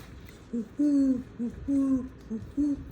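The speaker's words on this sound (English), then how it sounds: "That's what an owl says." An owl hooting in a children's nature story setting, a series of close, clear hoots in a repeating short-long rhythm, heard alone without speech.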